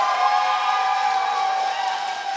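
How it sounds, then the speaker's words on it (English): A student union election event audience gives the candidates a steady round of applause, dense and continuous at full volume with no pauses. "Let's give them a warm round of applause."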